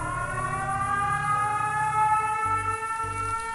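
Wailing sirens in the horror-themed video game Fran Bow, a loud, sustained rising and falling drone with layered tones and a low pulsing hum that breaks into short repeated bursts near the end.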